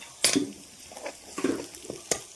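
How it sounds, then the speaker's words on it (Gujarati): Spices roasting in a home kitchen pan while tempering a vegetable dish: soft crackles and sizzles with several sharp metallic clinks and scrapes of a spoon against the pan, fairly quiet and close, no talking. "મસાલો શેકાય છે પછી હું વઘાર કરી દઉં"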